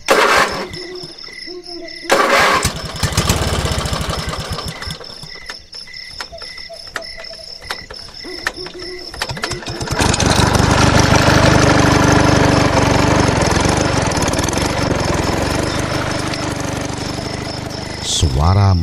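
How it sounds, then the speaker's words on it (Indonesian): Motorcycle engine cranking briefly, then catching and settling into a loud, steady rumbling idle that fills the second half, with insect-like chirping and mechanical noise beforehand. "Suara mesin menyala."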